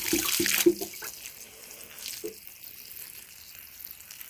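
Water from a tap or hose splashing onto freshly planted pawpaw trees on a homestead, a brief louder gush at the start, then a steady, quieter trickle with no talking.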